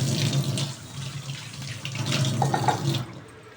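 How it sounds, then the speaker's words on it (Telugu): Tap water running steadily from a faucet, used for mixing batter for pakodas and bajjis, a close, continuous gushing flow that stops abruptly near the end. "ట్యాప్ల నీళ్ళతోనే కలుపుతుంది పిండి"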